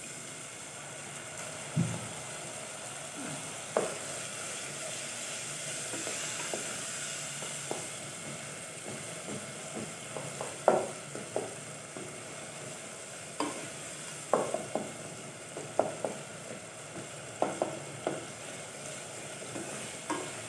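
Spices frying and being stirred in a pan for a mixed vegetable curry of potato, peas and methi, with salt and dried coriander added: a steady sizzle runs throughout, broken by intermittent scraping clicks of a spoon against the pan.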